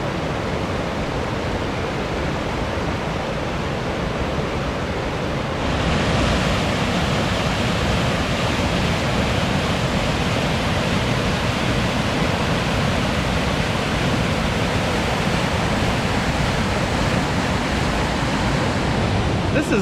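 Rapids and small waterfalls rushing through a narrow rocky gorge in a wooded preserve, a steady, loud, broadband roar of water that swells a little after the first few seconds and holds without a break.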